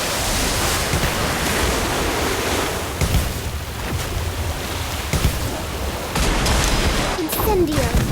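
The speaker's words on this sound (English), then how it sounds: "Orb of water!" Water orb spell cast in Harry Potter Magic Awakened, a loud surging, splashing wash like crashing surf with bursts and swells, layered with other battle effects and voices.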